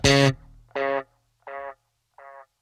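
A thin-toned electric bass goes through a Walrus Audio Arp 87 ambient delay, the signal pushed further: four sustained notes that fade in level one after another, with faint delay tails trailing between them.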